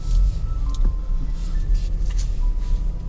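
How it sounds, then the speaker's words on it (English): Inside a Ford Everest Sport SUV on an unpaved road, a steady low engine and tyre rumble fills the cabin, with faint rattles and small knocks as it rolls over the rough surface. "we're now driving over an unpaved road or an unpaved path"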